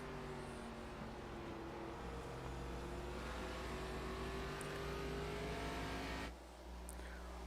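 Several stock car engines drone steadily in a stock car racing video game, a sustained layered roar with shifting pitch that dips briefly near the end, with no talk over it.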